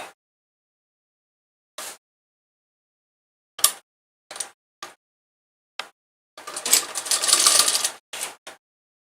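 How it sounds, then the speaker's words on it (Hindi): An electric sewing machine stitches elastic onto underwear fabric in short separate bursts, with a longer steady run of stitching near the end, each burst close and fairly loud against silence. "अब हम इलास्टिक का ऊपर में सिलाई लगाएंगे।"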